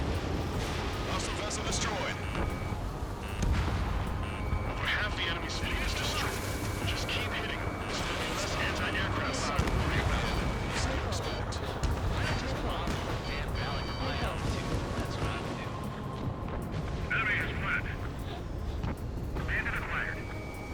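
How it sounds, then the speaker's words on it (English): Cruise missile launch and explosion in the video game Ace Combat 7: a continuous roaring rumble with thuds of blasts and scattered bursts, under frequent radio-style talk. "Let's get this cruise missile going after that destroyer."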